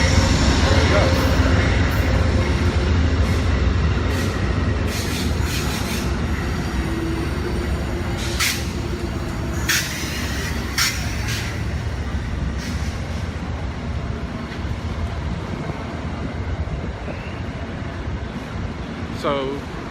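A northbound train with sleeper cars rumbles past steadily in South Florida, rattling wheels and occasional metallic squeals, loud and close, with a voice talking faintly under it.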